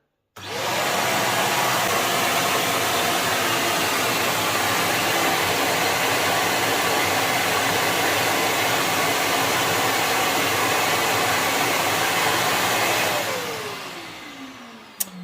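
Loud, steady whine of a Karcher WD3 wet and dry vacuum cleaner running continuously, then winding down as it is switched off.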